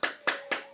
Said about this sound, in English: I give you big round of applause